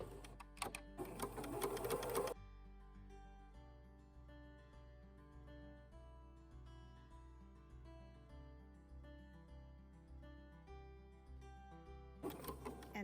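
Home sewing machine stitching a hoodie pocket, with a short loud rattling burst of needle strokes at the start and another at the end, a quiet motor hum between.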